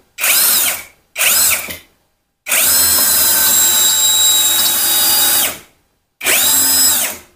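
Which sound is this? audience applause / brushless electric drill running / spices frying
brushless electric drill running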